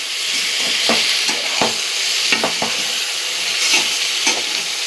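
Chicken tossed into browned fried onions and stirred, a loud steady sizzle with intermittent scraping strokes of a spoon in the pan, close and without voices.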